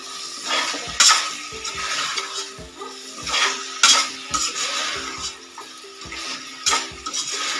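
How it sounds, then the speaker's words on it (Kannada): Field beans (avarekalu) go into a pan of frying masala, with repeated metallic clinks and scrapes of a utensil against the pan over a soft sizzle. The clatter comes close and in irregular bursts, with no talking. "ಆ ಟೈಮ್ನಲ್ಲಿ ನಾನು ಈ ಅವರೆಕಾಳನ್ನ ಹಾಕ್ಕೊಳ್ತಾ ಇದ್ದೀನಿ"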